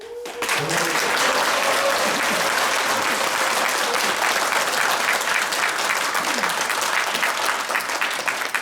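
A crowd bursts into sustained, dense applause that continues loudly and evenly for several seconds at a political party New Year gathering.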